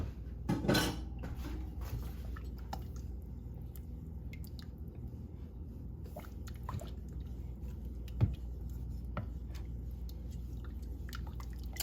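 A spoon stirs cornstarch slurry in a pot on the stove for a homemade peach cobbler, with faint scraping and soft wet sounds against a steady low hum. One sharp clink comes near the start and another about two-thirds of the way through.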